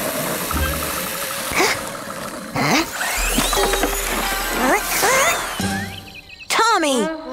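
A toy car's engine warms up before a race in a forest, making a low rumbling idle through the middle of the clip. Lively voices and cartoonish sound effects play around it.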